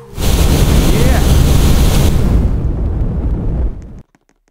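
Roblox bomb explosion bursts loud and close into a long, roaring rumble that fades and cuts off after about four seconds.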